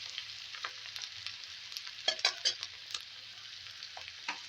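Spices fry and are stirred in a pan while cooking a Bombay duck fish curry, soft sizzling broken by scraping stirs and a few sharper clinks, quiet and close.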